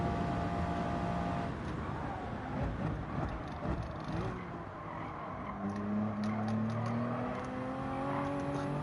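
A Toyota Supra race car in Gran Turismo 7 roars around Daytona during a Manufacturers Cup race, its engine a steady loud drone with pitch climbing as it accelerates, tire noise and passing cars mixed in.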